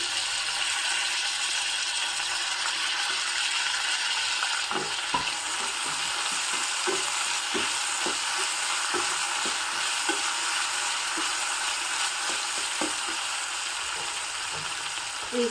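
Chopped tomato and potatoes fry steadily in a pan with a constant, close sizzle, broken by occasional light clicks and rattles as the pieces shift and the pan is worked.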